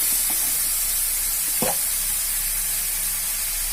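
Tomato and chili frying in hot oil with a rohu fish head, giving a steady, loud, close sizzling hiss with one brief stir or scrape partway through and no voices.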